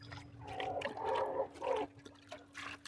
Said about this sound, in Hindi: मैं सब में थोड़ा थोड़ा पानी डालकर उसके बाद पिंजरों को सब की सफाई कर